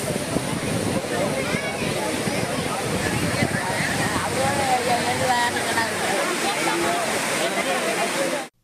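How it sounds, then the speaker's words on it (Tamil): Floodwaters roaring down the Courtallam waterfalls after continuous rain, a loud, constant rushing wash that keeps steady for several seconds before cutting off abruptly. "குற்றாலத்தில் உள்ள அனைத்து அருவிகளிலும் வெள்ளப்பெருக்கு ஏற்பட்டுள்ளது"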